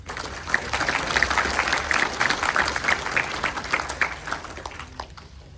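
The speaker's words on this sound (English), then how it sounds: "Please join me in giving her a warm round of applause." An audience at a community event on Hazara genocide gives a speaker a warm round of applause, dense sustained clapping from a crowd heard on its own, fading toward the end.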